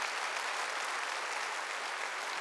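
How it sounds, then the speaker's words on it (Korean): Congregation clapping during a Wednesday worship service at a church, a dense, continuous wash of applause that holds steady at the same level throughout. "박수 치려면 박수 쳐."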